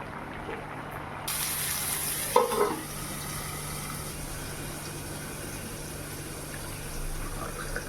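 Poppy seed paste is stirred with raw mustard oil, giving soft scraping and faint wet stirring sounds over a low steady background hum, with one brief louder clatter early on.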